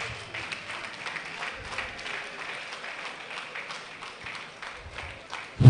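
An audience at an agricultural research institute's annual review and planning workshop claps together in a steady wash of applause that lasts several seconds at moderate volume, with no talk over it.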